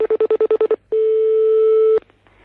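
A telephone gives a quick run of seven short, evenly spaced beeps, then after a brief gap one long steady tone that cuts off abruptly, loud and close, with nothing spoken over it.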